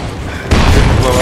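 In Sniper Elite 4, a grenade bursts against a tank with a sudden loud boom partway through, its heavy rumble hanging on after a quieter stretch with a voice.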